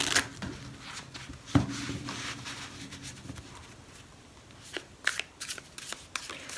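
Robin Wood Tarot cards shuffled by hand, soft riffling and papery slaps in a few quick bursts with brief pauses between, close and fairly quiet.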